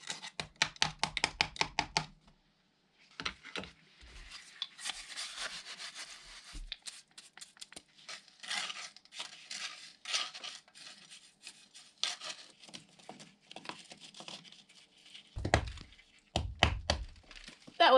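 Stones are hammered and packed into a lime-mortar wall inside a barn conversion, giving sharp, irregular knocks and thunks in bursts, close by, with short pauses and scraping between strikes.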